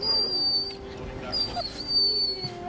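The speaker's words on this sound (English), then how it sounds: "his loyal dog breaks down in tears during the reunion" A soldier's dog whimpers during a homecoming reunion, thin high whines rising and breaking over a busy background, with voices and noise underneath.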